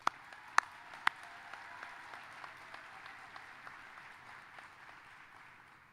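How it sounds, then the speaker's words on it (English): A few sharp, loud claps open the applause at a spring commencement ceremony. Scattered, fairly distant clapping from the gathered crowd follows and keeps a soft, steady patter. "We'll give you applause too."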